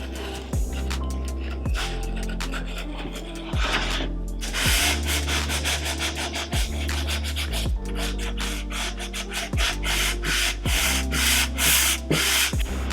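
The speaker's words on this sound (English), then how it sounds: "So I'm just going to go through and trim this up and then give it a good sand." Hand sanding of freshly trimmed edge banding on a plywood cabinet shelf, a steady scratchy rubbing in repeated strokes, close and fairly loud, with no talk.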